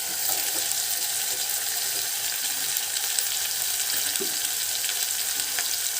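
Tomatoes fry with salt and turmeric in a pan for a Tirupati-style fenugreek tamarind stew, giving a steady, close, even hiss of sizzling throughout with no voices.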